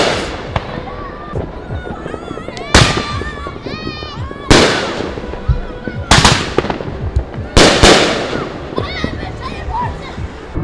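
Fourth of July fireworks in a Chicago park at night: several loud, sharp bangs burst at irregular intervals with crackling tails, and nearby crowd chatter runs underneath throughout.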